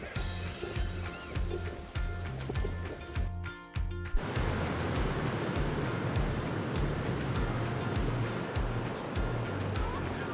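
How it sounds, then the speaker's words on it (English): Ocean surf washing in under the pier at Cocoa Beach as the tide comes in, a steady, loud rushing wash of waves with a brief rumble and clatter near the start. "sound of the surf."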